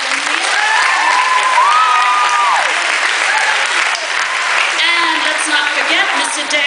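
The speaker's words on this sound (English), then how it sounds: "can we have a huge round of applause for your fabulous organizers, the volunteers, dancers?" Loud, sustained applause from a crowd thanking event organizers, volunteers and dancers, with whistles and cheering voices riding over the dense clapping.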